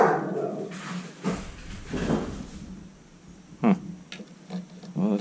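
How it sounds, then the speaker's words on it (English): A dog barks and growls somewhat angrily indoors, a few irregular bursts at moderate distance over a quiet room. "Well, that's my dog."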